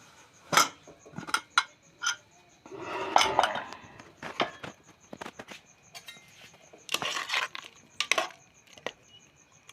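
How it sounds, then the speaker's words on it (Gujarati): A pressure cooker holding pav bhaji vegetables has its lid worked open after the steam is let out: a series of sharp metallic clanks and scrapes, close and fairly loud, with a longer rattling stretch in the middle and no talk. "પછી આપણે કુકરનું ઢાંકણું ખાલી ખોલીને જોઈ લઈશું"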